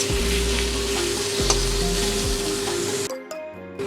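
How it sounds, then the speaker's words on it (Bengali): Onion, ginger and garlic paste fries loudly in a pan, a thick steady sizzle with a low rumble and light stirring that abruptly drops away to a quieter crackle in the final second. "পেঁয়াজ, আদা, রসুন এরকম ভাজা হয়ে গেছে।"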